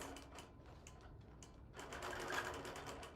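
A sewing machine quilting fabric runs steadily up close, its needle chattering in a fast, even rhythm that quickens slightly partway through, with no talk over it.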